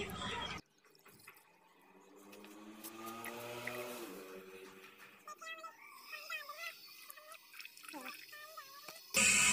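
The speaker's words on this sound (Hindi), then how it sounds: "ये पी टैप है, इसमें हम पानी डालते हैं" Water is poured into a P-trap during a washroom drain fitting, giving a thin trickling and gurgling fill with rising bubbly tones that settles into irregular drips and burbles, close and fairly quiet.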